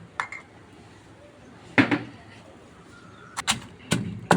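Dried red chillies and rock salt pounded in a mortar, a few sharp, separated knocks with clinking, hard-edged hits at irregular intervals and quiet gaps in between, no talking.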